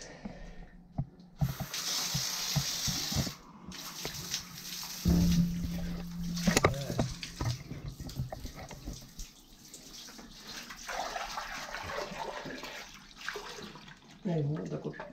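A water hose pushes water through a clogged sauna drain; a steady rushing, spraying hiss of water fills most of the span, with a brief gap and some intermittent clatter, while someone talks over it.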